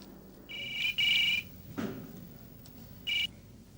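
A telephone rings in an indoor domestic scene, two warbling bursts close together and a third after a pause, moderately loud against quiet room tone.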